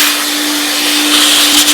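A shop vac runs steadily and loudly throughout, a constant whining roar with a strong steady hum, used to clean fuzz buildup from a Hakko FR400 vacuum desoldering station.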